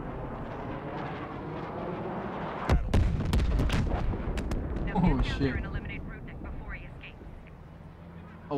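Artillery strike explosions in the video game Call of Duty: Black Ops Cold War land as a cluster of heavy booming blasts with sharp cracks, rumbling on under a low steady drone.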